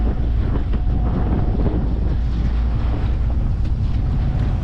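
Strong wind buffets the microphone on open water aboard a small sailboat, a loud continuous roar with splashing waves and creaking boat noise throughout, no voices heard.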